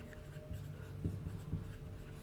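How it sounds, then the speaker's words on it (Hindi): Chalk or marker strokes write a sentence on a board, a faint, muffled series of short scratches over a low hum, with no talk heard. "मैंने लिख दिया राम इज ए"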